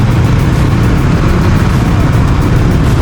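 Steady traffic in a congested city street after rain, with a continuous low engine rumble and car noise from close by, loud and unbroken throughout.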